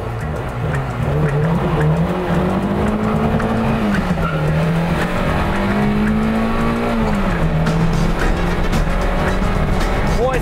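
Tuned VAZ-2101 launching hard from a standing start, its engine note rising steadily, with tire squeal and a brief dip at each gear change, loud and close throughout.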